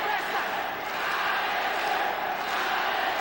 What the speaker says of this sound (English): the crowd getting behind Alexander Otsuka, hoping that he'll rally